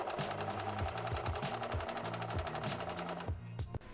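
A freshly repaired serger stitching fabric, a loud close rapid chattering hum with a rhythmic low thumping pulse, running steadily and then cutting off near the end.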